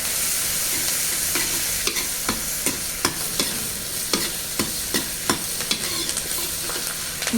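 Onion, garlic and tomato fry in a pan with a steady broadband sizzle, while a spoon scrapes and stirs in regular strokes about every half second, close and fairly loud, with no talking.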